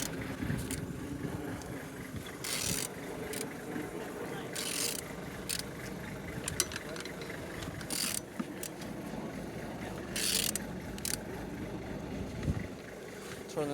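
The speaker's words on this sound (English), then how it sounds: "Turning your engine, then Z16XER." A Z16XER engine is rotated slowly by hand, giving steady mechanical rubbing and ratchet-like clicking with a few louder scraping bursts. It sounds close and continuous over a faint background hum.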